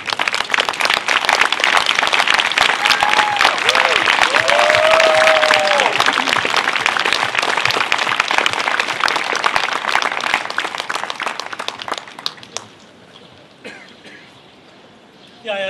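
Concert audience applauding to welcome a performer in Dresden, a dense, loud wash of clapping sustained for about twelve seconds with a few cheers on top before it fades into quiet.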